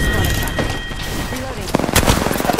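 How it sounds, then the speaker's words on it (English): Rapid bursts of video game gunfire crack out over a busy mix of game noise, getting louder and denser in the last second, with a voice talking over part of it. "Opening fire."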